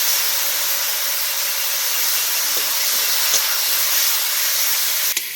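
Spice paste of cumin and chili powder sizzles in hot oil for a fish curry, giving a loud, even steam-like hiss that runs throughout, with a brief clink near the end.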